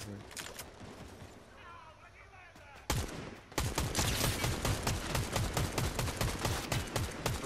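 Rapid gunfire from a first-person shooter game crackles in dense bursts that grow louder and more continuous partway through, with players talking over the shots.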